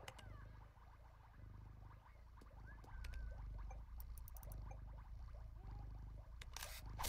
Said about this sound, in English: I take a picture of the kitty cat.